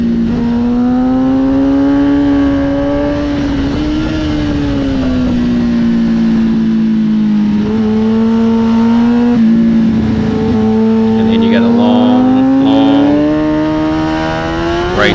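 Race car engine at Highland Park Raceway held near full throttle, a loud continuous drone that rises and falls steadily as the revs change, with no talk over it.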